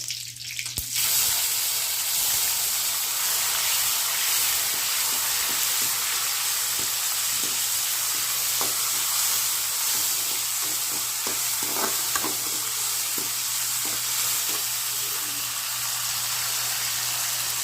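Curry leaves and tomato sizzle steadily in hot oil in a pan, a continuous close frying hiss with occasional stirring scrapes and clinks throughout.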